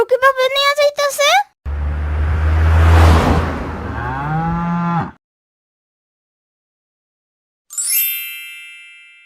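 A cow being led along by people, giving a long loud low moo in the middle, with voices talking before it and a bright ringing tone near the end.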